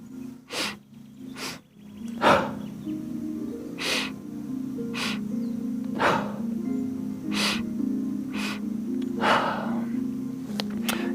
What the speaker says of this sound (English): So we're going to do the double breath